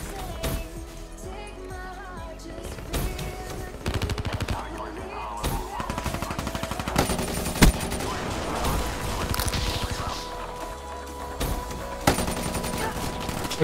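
Gunfire from Black Ops 3 plays on PS4 Pro: loud rapid bursts of automatic fire and scattered single shots crackle over a busy background mix, with brief pauses between volleys.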